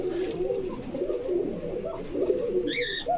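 Pigeons at a bird market in Bogura coo steadily and close by, a continuous low rolling murmur with a brief higher chirp near the end, no talking.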